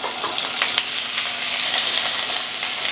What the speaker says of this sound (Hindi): इस तरह से अच्छी तरह पहले आलू को फ्राई कर लेंगे 2 से 3 मिनट